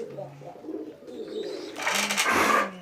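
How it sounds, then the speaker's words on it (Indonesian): Low cooing of a bird perched on a cow, close by, over rustling outdoor background noise in Blora, Indonesia, that swells into a louder burst near the end. "Di atasnya sapi ada burung."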